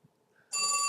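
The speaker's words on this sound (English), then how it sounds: "We got that phone." A telephone bell starts ringing abruptly after a quiet moment, a bright sustained metallic ring cut off almost at once.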